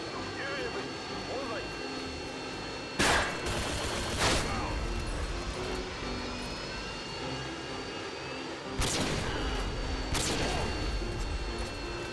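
Four sharp sniper-rifle shots, likely an Intervention, fire in Call of Duty: Modern Warfare 2 on PS3, spaced a few seconds apart in two pairs over a steady game background while someone commentates.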